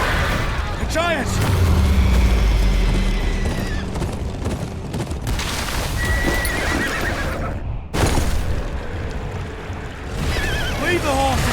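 Horses whinnying and neighing in a Game of Thrones Kingsroad open-world RPG gameplay demo at a riverside path, several loud rising neighs with hoofbeats and rushing water, mixed with shouted dialogue and combat sounds.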